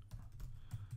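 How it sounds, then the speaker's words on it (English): Fingers type on a computer keyboard, soft quick key clicks in a short, quiet, uneven burst with no one talking. "if you type in your domain"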